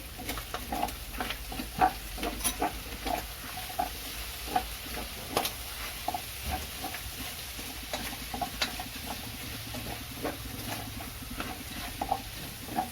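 Pork binagoongan with shrimp paste being stirred in a pan, a steady sizzle under repeated scraping strokes of a spatula, close and moderately loud, no voices.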